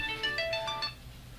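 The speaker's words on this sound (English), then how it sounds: "Your phone's already ringing and we just started." A phone ringtone plays a bright, repeating electronic melody for about a second, then cuts off, fairly close and clear over a low background hum.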